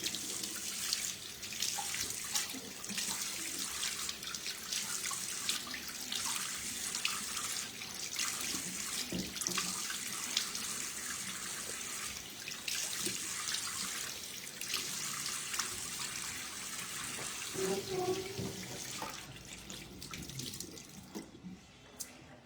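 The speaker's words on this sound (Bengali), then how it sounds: "আমি একটু মুখটা ধুই" A tap runs steadily into a sink while someone washes their face, giving a close, continuous splashing water flow with small spatters. It carries on without talk and stops near the end.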